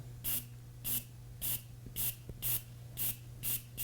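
A Paasche airbrush sprays paint in seven short, even bursts, each a soft hiss at close range separated by brief quiet gaps, with no talking.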